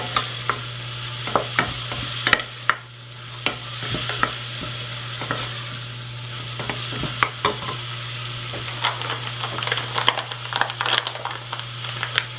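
Onion and celery sizzle steadily in a pan while a spoon stirs and scrapes in repeated, irregular clatters over a constant low hum, close and clear with no talk.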